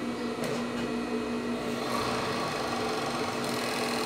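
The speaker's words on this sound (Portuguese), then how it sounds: "Passa novamente aqui no overlock," Overlock sewing machine stitching the seams of panties, a close, steady mechanical whirring hum with a few faint clicks and no voices over it.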